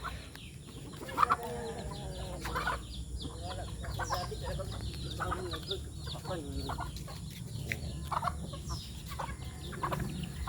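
A rooster clucks in short bursts over a steady rustling background, with soft chicken sounds scattered across the scene.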